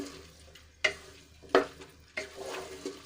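Basmati rice being mixed in a pressure cooker, with three soft scraping strokes of a spoon and a faint sizzle between them, close and quiet.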